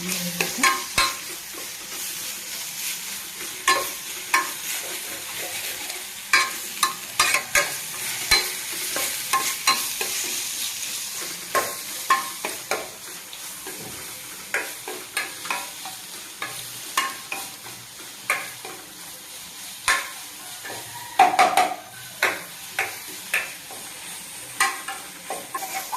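Raw banana pieces frying with green chilli masala in a pan, a spatula scraping and stirring in repeated irregular strokes over a soft continuous sizzle, close by with no talking.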